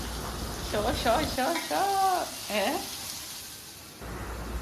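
Onions sautéing with a pinch of salt in a pan for masala dosa filling: a soft, steady sizzle heard close, partly under a person speaking, then continuing alone at the end.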